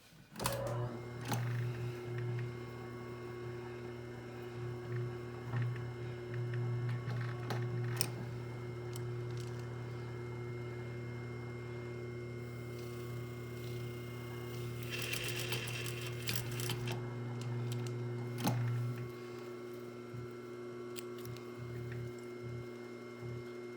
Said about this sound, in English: I'm just going to sew just at a 45-degree angle across here